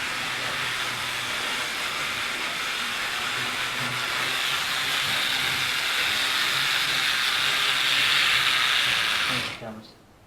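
A model train runs steadily along its track with a continuous hissing whir that holds for about nine seconds and then cuts off abruptly.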